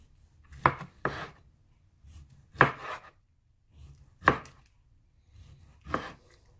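A knife slices through roasted marinated pork tenderloin on a board, giving five or six separate crisp cutting strokes with quiet pauses between them, close and clear.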